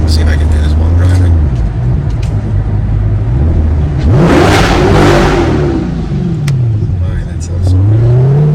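A 2024 Corvette C8 Z51 with an AWE exhaust revs while driving, loud and close, climbing and dropping in pitch through several gear pulls with a sharp surge midway, while people talk over it.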